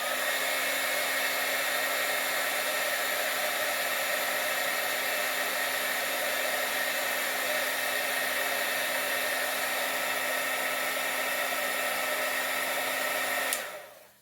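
A heat gun blows hot air over two-part resin on a broken necklace, a steady whirring roar held at an even level for the whole stretch before it cuts off abruptly near the end.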